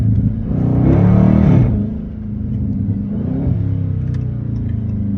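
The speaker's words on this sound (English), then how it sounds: "You hear that backfire" A Hellcat-engined 392 Scat Pack revving in first gear during a drive, heard from inside as a loud rising rumble that swells, drops away, then builds again, with faint pops near the end.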